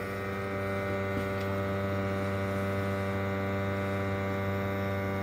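A flue gas analyzer pump draws a sample from a Worcester 38 CDI boiler, giving a steady, tonal electrical hum that continues unbroken at an even level with no talk.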